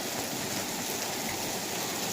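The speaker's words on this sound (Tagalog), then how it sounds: "Bakit umuulan pa to ng ice? Magsasummer na." Summer hail falls at home with a dense, steady hiss and patter, a continuous close rush of hits on surfaces, alone without voices.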